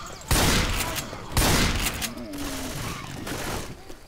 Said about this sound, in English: Deploying frag rounds.